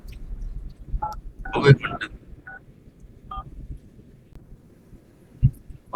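A Redmi Note 9 Pro Max phone keypad sounds several short dialing beeps spaced apart, fairly close and clear, with someone speaking briefly between them.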